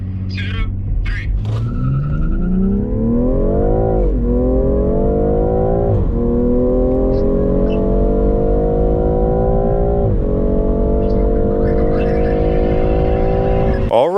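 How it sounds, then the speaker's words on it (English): A BMW M340i accelerates hard in a timed drag race, its engine rising in pitch through several gear changes with brief dips between shifts, loud and close throughout, with a voice counting down at the start. "in the last test we were about to do between these two M-powered beasts is a timed drag race, so let's go do that, starting off with the M340i"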